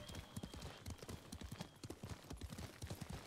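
Horse hooves clip-clop in steady, rhythmic beats in the video game Ghost of Tsushima, a continuous trot close by and moderately loud, with no talking over it.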